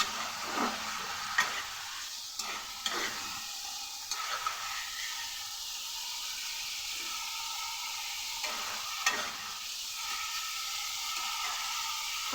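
Spices being stir-fried in a pan for a pumpkin-greens dish, with a steady close sizzle, occasional spatula scrapes and taps against the pan, and no talking.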